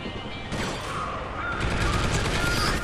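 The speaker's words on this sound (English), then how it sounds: "Holy crap, a bomb just got dropped on my head." A bomb drops and explodes in Call of Duty: Ghosts multiplayer: a dense, crashing blast surges about midway and keeps roaring with scattered gunfire and debris clatter, loud and close.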